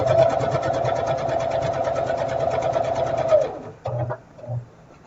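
A sewing machine stitching a quilt seam runs steadily at close range for about three and a half seconds, then stops, followed by a couple of brief mechanical bumps and short bursts.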